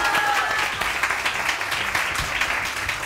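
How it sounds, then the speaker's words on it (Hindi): A studio audience applauds a guest on a Hindi talk show, a thick continuous wash of clapping from many people, loud and close, with a bit of crowd murmur underneath. "उस्मा के लिए बहुत सारी तालियां"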